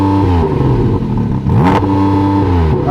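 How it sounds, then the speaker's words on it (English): A Porsche GT4 RS fitted with a titanium exhaust revs hard while parked, the engine note climbing, holding and falling back in loud, close blips with no talking. "Give it some revs."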